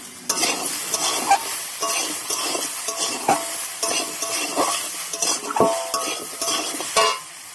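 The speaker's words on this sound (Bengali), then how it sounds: "এর সাথে আমি ঘাটা মশলা অ্যাড করব, ভালো করে কষিয়ে নেবো।" Masala with garam masala being stirred and fried in oil, a steady sizzle broken by repeated scraping strokes of a spoon against the pan, close and fairly loud with no voices.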